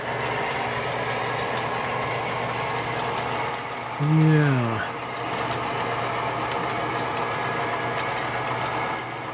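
An HO scale model train rolls around a curve on a layout, giving off a steady mechanical hum and rumble. A brief falling, horn-like tone sounds midway, and a voice speaks briefly.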